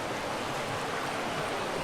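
A forest stream at Anakulam flows with a steady, close rushing hiss of moving water, with no voices over it.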